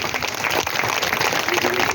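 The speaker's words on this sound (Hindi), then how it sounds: "जोरदार ताली बजा के इनका स्वागत करिए" A loud, dense round of crowd applause welcomes a guest at a political meeting in Karhan Bazar, Mau, steady throughout with faint voices mixed in.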